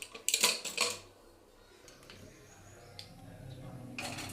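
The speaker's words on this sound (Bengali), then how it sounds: "প্রেসারের ঢাকনাটা আটকে রেখে" A pressure cooker lid being fitted and locked shut, a burst of bright metallic clanks and clicks up front, then quieter handling noise with another faint clatter near the end.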